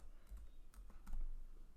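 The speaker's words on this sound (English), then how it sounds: "So I can type some properties" Faint keystrokes on a computer keyboard tap in small irregular clusters over a low background hum, with no one speaking.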